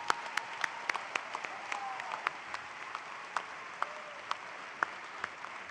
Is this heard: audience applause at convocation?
yes